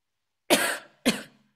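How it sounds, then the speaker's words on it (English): Two short, sharp coughs about half a second apart, close and fairly quiet against silence. "I'm sorry, I coughed."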